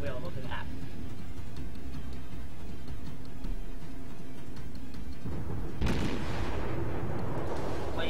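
Naval gunfire in the World of Warships video game: a constant low battle rumble runs under a few muffled thuds, then a loud boom bursts out near the end and trails off in a noisy wash.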